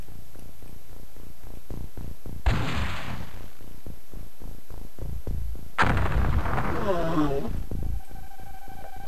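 Tank cannon fire in the X-Com video game sends out two heavy explosive blasts a few seconds apart, each followed by a rumbling, crackling decay, over a steady mechanical background hum.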